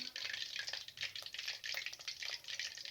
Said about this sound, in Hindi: विंग्स फ्राई हो रही हैं